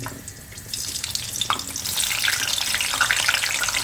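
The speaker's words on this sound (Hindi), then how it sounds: "मैंने एक हरी मिर्ची और उसमें चाट मसाला डाल के फ्राई कर रहा हूँ" A green chili with chaat masala sizzles loudly in a pan, the bright crackling frying rising in intensity over a few seconds, close up and without speech.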